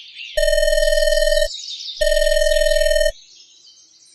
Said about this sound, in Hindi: तभी अचानक उसके मोबाइल की घंटी बज उठती है।